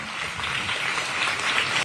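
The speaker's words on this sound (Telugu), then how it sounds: "చప్పట్లు కొడతాం" An audience at a public gathering claps steadily for about two seconds, a dense and fairly loud burst of applause that stops abruptly.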